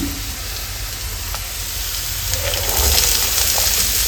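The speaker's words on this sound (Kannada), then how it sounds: "ಸೊ ನಾನು ಕಟ್ ಮಾಡಿ ಇಟ್ಕೊಂಡಿರೋಂಥ ವೆಜಿಟೇಬಲ್ಸ್ ಹಾಕ್ತಾ ಇದ್ದೀನಿ" Chopped vegetables for a grilled paneer sandwich hitting a hot pan, a loud, close sizzle that swells toward the end with a few stirring scrapes and clinks, no speech.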